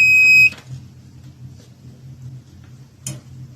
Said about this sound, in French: il va faire un petit bruit pour dire c'est bon